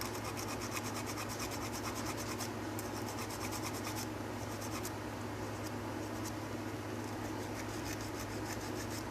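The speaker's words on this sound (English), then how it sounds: "I am going to just try to file away some of these little rougher ends" A nail file rasping steadily against a piece of cold porcelain clay, a close, continuous scratchy rubbing that runs for several seconds with fine repeated strokes.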